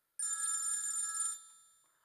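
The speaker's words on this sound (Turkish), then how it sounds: "telefonu çalıyor" A telephone rings indoors once, a bright electronic trill lasting about a second before fading out, clear and alone with no talk.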